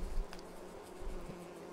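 Bees buzz faintly on a farm in Farming Simulator 22, a soft steady insect drone running low under ambient noise for under two seconds.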